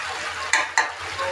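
Spiced meat fries in a pan and is stirred in short scraping bursts, with two sharp clatters over a soft background sizzle. No one speaks.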